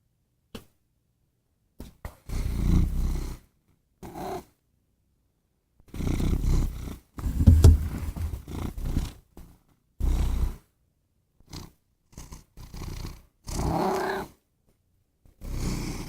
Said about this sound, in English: Now he's purring.